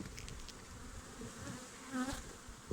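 Honeybees buzz steadily around the hives during a honey harvest, a dense, close drone with one louder pass of a bee near the microphone partway through.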